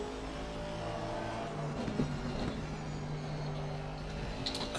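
Race car engine in a sim racing game at Spa, heard from the bonnet camera: a steady, fairly quiet mechanical drone and hum holding evenly throughout, with no talk.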